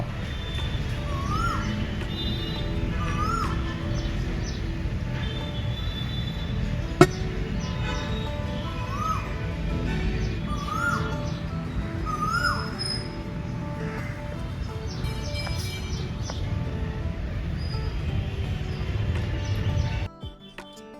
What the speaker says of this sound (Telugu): బయట కోయిల అరుస్తుందండి ఎంత బాగా అనిపిస్తుందో